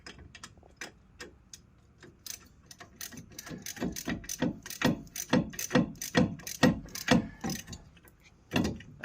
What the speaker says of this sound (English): Start this bolt up so I can get the lower bolt in.